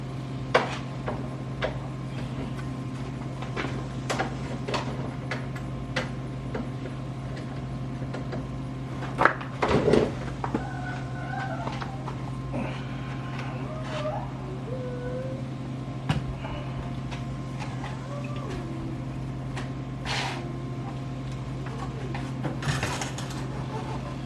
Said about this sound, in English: take these 2 bolts apart, and then there's a plate right here that I have to unscrew